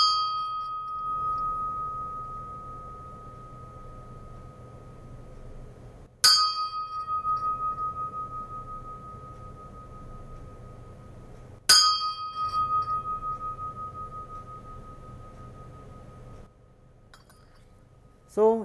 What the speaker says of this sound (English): This is a Kathmandu bell